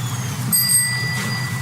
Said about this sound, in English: the bicycle bell rings again